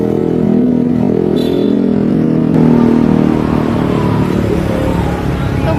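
Motorbike traffic at a town intersection in Kendal, a steady close roar of engines with revving bursts as bikes pass, continuous throughout.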